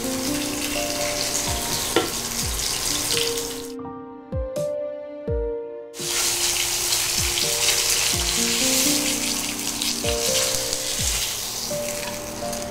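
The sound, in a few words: fish pieces frying in oil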